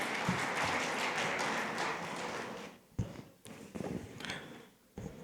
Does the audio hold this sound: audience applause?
yes